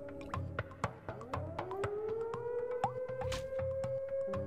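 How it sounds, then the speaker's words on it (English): A siren in the video game OFF rises and holds as a steady wailing tone, moderately loud, over a rhythmic pulsing game backdrop. "Siren."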